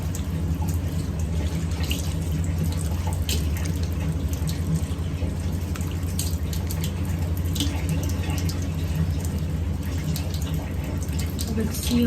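Water running steadily from a tap during washing, a constant close rush with occasional splashes and drips, a voice talking faintly underneath.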